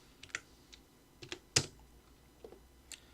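Several sharp keystrokes on a computer keyboard while entering the H hatch shortcut and Enter in CAD software, isolated clicks spread unevenly with one louder press near the middle, close and quiet with no talking.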